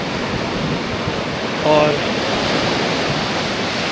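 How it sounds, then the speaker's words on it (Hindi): Aggressive ocean waves crash along a dangerous stretch of Cola Beach in Goa, giving a loud, steady broadband roar of surf close by, with a brief voice cutting in for a moment. "यहाँ पे आप देख सकते हैं कि लहरें जो हैं सो एग्रेसिव"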